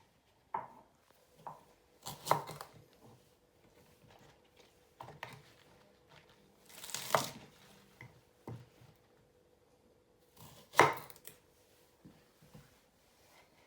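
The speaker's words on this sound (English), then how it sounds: "Next step is to chop your spring onions up." Spring onions being chopped and sliced with a knife on a board: sparse, quiet, irregular taps and thuds, a few sharper scraping knocks standing out in a near-silent kitchen.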